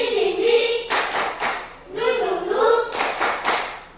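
Schoolchildren in a classroom play a rhythmic 'tepuk semangat' ice-breaking clap game: loud bursts of many hands clapping together alternate with the group chanting in unison.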